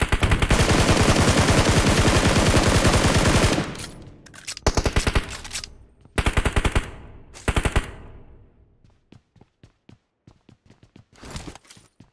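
Automatic gunfire in the battle royale game PUBG Mobile, a long loud unbroken burst, then shorter bursts and scattered single shots trailing off into sparse distant pops.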